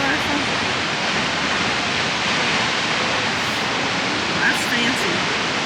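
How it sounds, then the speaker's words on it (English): A waterfall on the Olympic Peninsula in Washington State roars as a steady, dense broadband rush that stays constant and fairly loud throughout, with no voices over it. "Do they really get to go right by the waterfall?"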